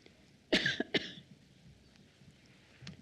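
A couple of sharp coughs close to the mic, followed by quiet room tone and a faint cough later.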